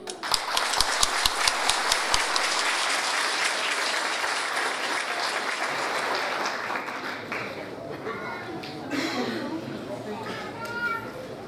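An audience applauds the military police at a formal solemn session honoring the Espírito Santo state force, sharp individual claps opening into sustained applause that tapers, with voices and chatter rising underneath toward the end.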